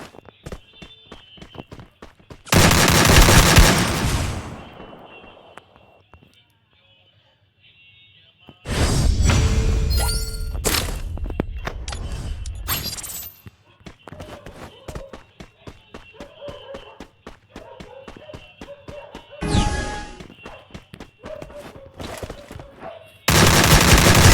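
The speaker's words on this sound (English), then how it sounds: "there's literally no lag in the guns and reload animation" Gunfire bursts and reload sounds in the mobile battle royale game Free Fire, with loud broadband blasts at about 3 s, 9 to 13 s, 20 s and at the end, and lighter clicks and rapid taps between them.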